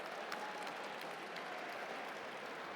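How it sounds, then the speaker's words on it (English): Steady applause from a gala audience, a continuous patter of clapping filling the room with no voices on top. "Let's give them a round of applause"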